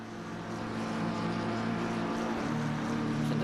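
A GT race car in a racing video game at the Spa circuit, its engine droning with a steady high whine at full throttle, a sustained loud tone that shifts in pitch partway through, with no talk.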